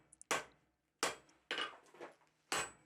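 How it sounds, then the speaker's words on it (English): A hammer forges a half-inch square steel bar into tong blanks, giving four sharp ringing blows at irregular intervals, close and clear, with faint taps between. "I'm just forging a short section."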